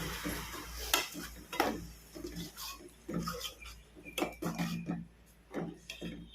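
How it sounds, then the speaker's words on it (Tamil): Onions and tamarind chili masala sautéing in a pan for fish curry, with a light sizzle under repeated close clinks and scrapes of a spoon stirring against the pan in an uneven rhythm. "இப்போ நல்லா அது வதங்குது"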